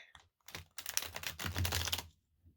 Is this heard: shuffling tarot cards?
yes